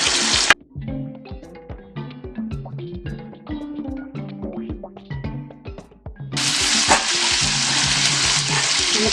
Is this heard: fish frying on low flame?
yes